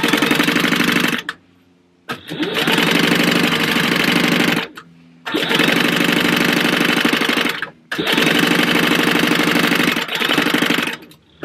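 Sewing machine stitching purse fabric pieces together at a short stitch length, three loud sustained runs of rapid mechanical whirring separated by brief pauses, close and alone with no talk.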